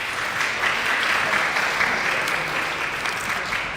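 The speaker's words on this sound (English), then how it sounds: "A round of applause" Audience applause at the end of a talk at a ClawCon event in Toronto, steady broadband clapping from a crowd at moderate distance for a few seconds.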